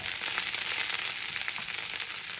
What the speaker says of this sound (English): it seems like the sizzling overpowers me trying to talk on here